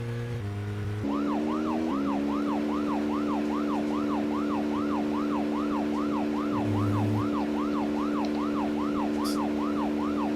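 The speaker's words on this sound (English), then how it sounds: "when I turn on the siren, it gets all crackly." Wailing police-car siren from the Deadly Premonition driving game, a steady repeating up-down wail that runs loud and continuous over a droning engine hum, with no voices.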